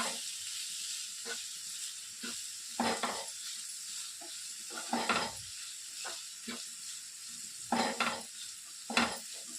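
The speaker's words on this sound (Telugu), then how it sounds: "ఈ విధంగా బాగా కలిపేసుకొని ఇంకా ప్లేట్ని మూసేసుకోవాలి." Broad beans seasoned with turmeric and salt being stirred in a frying pan, with a steady sizzle broken by several louder scraping, rustling bursts of the spoon moving through the beans, close and alone.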